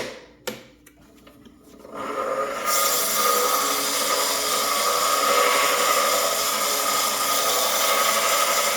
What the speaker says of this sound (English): You want to keep moving the sandpaper.